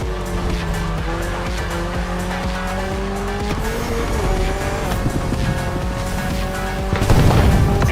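A Toyota GR86 races in The Crew Motorfest, its engine droning steadily with rising and falling pitch as gears shift, tires squealing and skidding, and a louder rush of impact or surface noise near the end.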